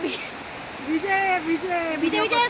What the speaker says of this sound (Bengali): অঝরে বৃষ্টি আসছে অঝরে বৃষ্টি